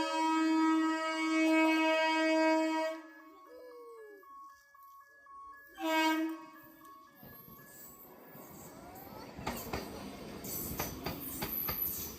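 A train sounds a long, loud, tonal horn blast, pauses, then gives a second shorter blast. A rising rumble and rattle of rail cars rolling past follows.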